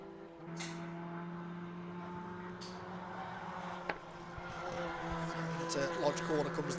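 Race cars climbing the hill out of Knickerbrook Corner at Oulton Park circuit during a BRSCC race, engines droning steadily at a distance beneath a commentator's voice, with a brief sharp crack midway and the roar swelling toward the end.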